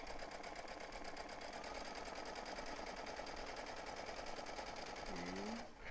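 Sewing machine stitching fabric for a protective face mask, a close, loud, continuous rapid needle whir running steadily for several seconds before cutting off abruptly near the end.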